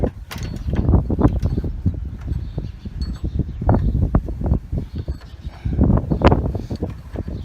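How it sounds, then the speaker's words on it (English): A drive chain is worked back onto a corn and bean planter's sprocket: close metallic clanks, rattles and clicks come in irregular bursts throughout, with no talking. "So now the fun part, just getting the chain back on."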